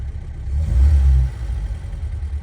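A 1967 Volvo 1800S engine catches and revs, a deep low rumble swelling to a peak after about half a second, then settling back to a steadier idle. It is close and fairly loud, with no talking.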